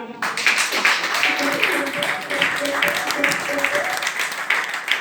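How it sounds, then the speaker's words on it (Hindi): Loud, steady applause from an audience at a business plan presentation event, dense clapping sustained for about five seconds with voices mixed in underneath. "मैं चाहूंगा नीरज जी के धन्यवाद के लिए एक बार जोरदार तालियां"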